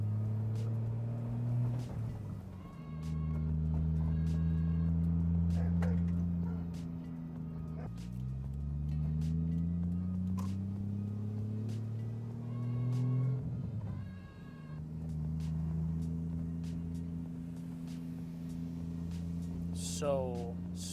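A Toyota MK4 Supra with a newly installed Southbend stage 3 clutch drives steadily with a droning engine tone. Revs rise and fall through gear changes, including a shift into third, and a voice speaks at times over the cabin sound.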